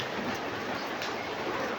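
Steady, dense hiss of rain falling, a continuous even wash with no breaks and no voices.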